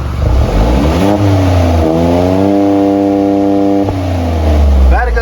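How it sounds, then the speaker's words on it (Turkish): An Opel Mokka's exhaust roars close up as the engine is revved repeatedly, the pitch climbing and dropping with each blip of the throttle, with a crackling popping edge. "Şimdi aracımızın bir egzoz sesi var. Bunu da size dinletmek istiyorum."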